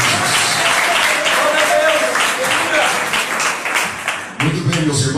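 Congregation at a church mission service giving Jesus a round of applause, sustained crowd clapping that swells and holds, then thins near the end as a voice begins speaking over the fading claps.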